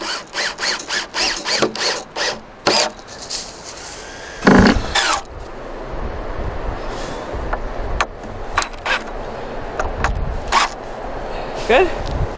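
Screwing raised garden bed boards together for a terraced vegetable garden, with a power drill driving screws in short bursts and whirs amid creaks and knocks, people talking nearby.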